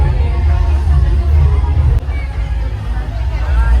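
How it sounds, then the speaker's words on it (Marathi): Busy Sunday crowd at Patil Resort in Virar, a continuous dense murmur of many voices with a low rumble underneath, loud and close, with a brief dip partway through. "आज गर्दी भरपूर आहे मित्रांनो"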